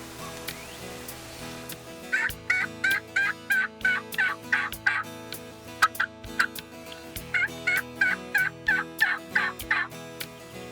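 Wild turkeys, a group of young jakes in early-season woods, gobble in repeated rattling bursts, several rapid runs of calls coming one after another at moderate distance with short pauses between, no talking.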